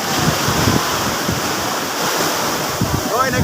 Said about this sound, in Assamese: মানে কেতিয়াবা বহুত ডাঙৰ ঢৌ আহে না মানে এনেকুৱা ডাঙৰ ঢৌ আহে